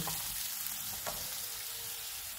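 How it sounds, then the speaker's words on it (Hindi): One small onion dropped into two tablespoons of hot oil fries with a continuous, even crackling sizzle, close and moderately quiet, with no voices. "आयल गर्म हो गया इसमें छोटे साइज़ का एक प्याज डालेंगे"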